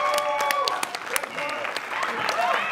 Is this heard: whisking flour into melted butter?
no